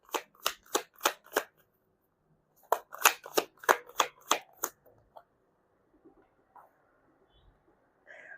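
Tarot cards being shuffled by hand: two bursts of rapid riffling flicks, about five crisp snaps in the first and seven in the second, close and clear, followed by quieter handling sounds.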